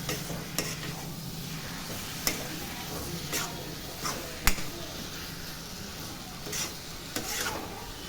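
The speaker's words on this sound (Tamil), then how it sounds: "கொஞ்ச நேரம் சிம்மிலே வதங்கட்டும்." Prawns sauté over a low flame in a pan with a soft, steady sizzle. Sharp scraping stirs and clicks of a spoon against the pan cut in every second or so.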